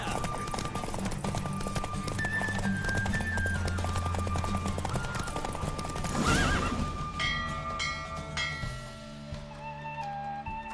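Roach, a horse in The Witcher 3, gallops hard during a race, with rapid hoofbeats and a sharp neigh over loud orchestral game music that swells and then eases off near the end.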